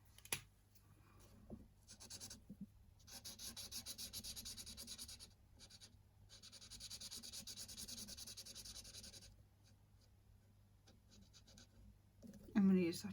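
A chisel-tip marker scratching and rubbing across a coloring page in steady strokes, soft and close, with short pauses between passes and a louder knock near the end.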